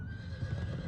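A horse neighing in the Berserk and the Band of the Hawk video game, a single steady whinny held over a low rumbling bed, close and clear with no talk.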